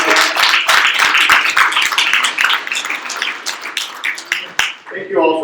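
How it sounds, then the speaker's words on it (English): Audience applauding panelists at a university arts panel event in New York: steady, full clapping from a room of people that goes on for several seconds, easing slightly near the end as a voice comes in. "Well, everyone, a round of applause for our panelists."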